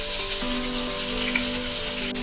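Onion paste with ginger-garlic paste sizzling in hot oil with cumin, nigella and fennel seeds, a steady close crackling hiss that runs unbroken throughout, no voices.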